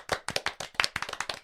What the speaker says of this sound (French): Applaudissements pour Sacha.